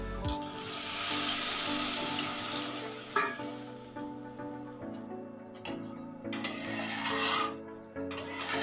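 Water is poured into a pan of spices already frying for a pabda fish curry, hissing and sizzling loudly at close range, with rasping bubbling that surges and fades in bursts.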